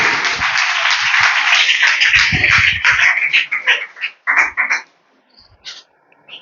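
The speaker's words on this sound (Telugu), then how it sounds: "గట్టిగా చప్పట్లు కొడదాం." Congregation at a church fellowship gathering applauding loudly, dense sustained clapping for about three seconds, then thinning into scattered bursts before fading out.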